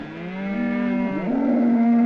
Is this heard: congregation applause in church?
no